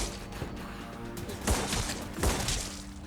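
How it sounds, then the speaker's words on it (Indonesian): Gunfire in an action film scene as a gangster fires at five villains in seconds: a couple of loud, sharp bursts stand out over a busy, dense background of other noise. "Hanya dalam hitungan detik, Parti mampu menembak kelima penjahat itu sekaligus"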